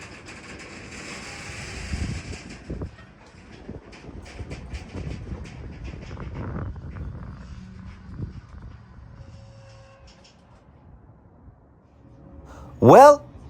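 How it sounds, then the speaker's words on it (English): A long freight train slows to a stop at a road crossing in Greenville, South Carolina, giving a low, fairly distant rumble that fades gradually, then a sudden loud tonal blast near the end. "This train is coming to a stop."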